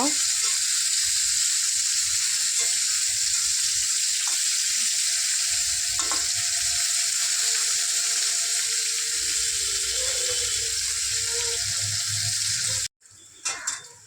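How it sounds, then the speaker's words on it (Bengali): Bitter gourd pieces fry in hot oil with a loud, dense, continuous hiss that runs close and unbroken for about thirteen seconds before cutting off abruptly, with no talking. "তেল গরম হওয়ার পর করলাগুলো দিয়ে দিলাম এবার একটু ভেজে নেব"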